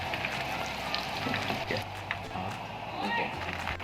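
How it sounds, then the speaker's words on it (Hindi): Chicken cheese box patties frying in a frying pan give a steady crackling sizzle, fairly faint, running throughout under a voice talking. "फ्राई पैन में बॉक्स पैटीज शामिल करने के बाद 2 मिनट तक इसको एक तरफ से अच्छी तरह से फ्राई कर लें"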